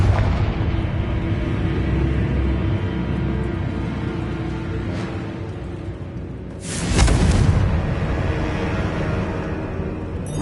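Confringo fire-blast spell in Hogwarts Legacy: a single sharp, loud burst that blooms into a rumbling roar over a dense, constant background of game noise.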